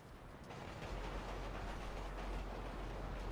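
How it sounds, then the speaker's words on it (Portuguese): A high-speed bullet train in GTA 5 rushes past with a rising, steady rumble and rail noise that swells over the first second and stays strong, fairly quiet overall and free of speech. "Ó, você vai ver que vai passar um trem agora"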